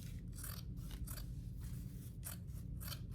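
Scissors snipping through denim strips cut from old jeans, a series of crisp close scraping cuts in an uneven rhythm over a low steady background hum.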